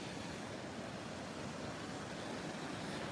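Ocean surf breaks on a shore as an unbroken, rushing roar, loud and close, with some wind buffeting and no speech.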